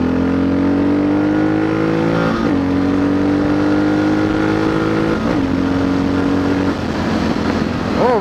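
A motorcycle accelerates hard through the gears, its engine note rising in pitch, dropping at each short shift and climbing again, loud and close throughout with no speech.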